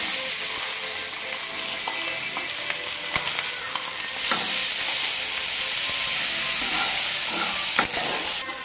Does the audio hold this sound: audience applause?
no